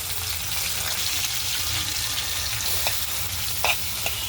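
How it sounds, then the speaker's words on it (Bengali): Dried fish frying in a pan gives a steady, soft sizzle under continuous stirring, with a few faint scrapes and clicks near the end and no talk. "এখন আমি যে নাড়াচাড়া দিচ্ছি, শুটকিটা দিয়ে দিলাম"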